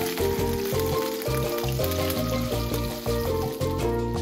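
A grouper fillet fries in a pan of olive oil, giving a steady, close crackling sizzle that holds evenly throughout with no voices.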